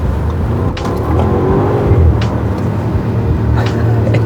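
A 2023 Bentley Bentayga S in sport mode gives a steady, loud, raucous engine rumble, heard close and continuous with brief swells as it revs, no talk over it.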